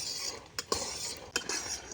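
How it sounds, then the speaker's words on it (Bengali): Peanuts being stirred and dry-roasted in a wok with a metal spatula: a soft, continuous rattle and scrape with a few sharper clinks of metal on the pan, close and fairly quiet. "কড়ার মধ্যে বাদামটা দিয়ে এরকমভাবে খুন্তি দিয়ে কিন্তু অনবরত নেড়ে যেতে হবে"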